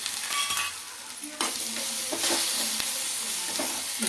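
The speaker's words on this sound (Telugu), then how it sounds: "టమాటాలు పచ్చిమిరపకాయలు బాగా వేయినాయి" Tomatoes and green chilies fry in a pan, a constant sizzle broken by sharp scraping stirs and utensil knocks, close and moderately loud with no voices.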